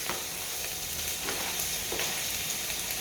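Chips for Chinese-style salt and chilli pepper chips fry in hot oil, a loud continuous crackling sizzle with faint occasional stirring scrapes, close and without talk.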